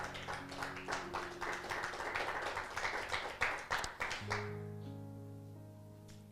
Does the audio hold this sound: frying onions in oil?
no